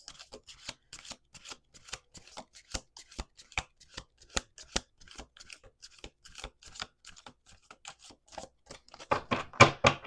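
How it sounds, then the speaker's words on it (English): Rapid rustling riffles and crisp snaps of a deck of oracle cards being shuffled up close, in uneven bursts, with a louder flurry near the end. "We're going to do 2 more shuffles."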